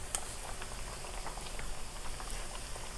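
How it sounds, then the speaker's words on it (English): Tostones, plantain slices, frying in hot oil with seafood nearby: a steady, soft crackle of small pops and sizzling bubbles, close and quiet, with no talking. "So this is going to take no time on frying."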